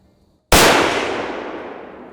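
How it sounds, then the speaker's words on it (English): One live-fire rifle shot at a target on a shooting range: a sudden, very loud crack after a brief silence, followed by a long ringing decay that slowly fades out. "So I'll take a couple shots here and show you live fire what I mean."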